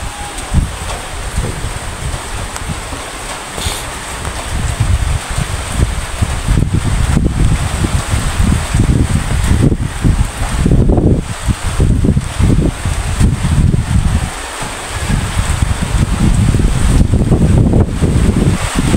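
Gusty wind in Naga City, Bicol, after Super Typhoon Pepito, roaring and buffeting the microphone in continuous rushing waves with rustling foliage, loud and sustained throughout with no voices.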